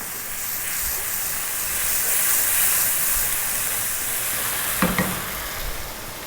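Soy and oyster sauce sizzle loudly in a pan over high heat while being stirred, a steady hiss of frying with a brief clatter near the end, no voices.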